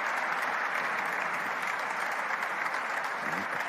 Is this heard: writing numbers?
no